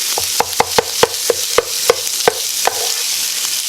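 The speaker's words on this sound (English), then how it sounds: "You want to get it all broken up like it is, like you do ground beef, and get it all brown." Hot Italian sausage, skin removed, being broken up and browned in a pan: a steady loud sizzle under sharp repeated taps and scrapes of the utensil on the pan, about a dozen strikes in a quick irregular rhythm.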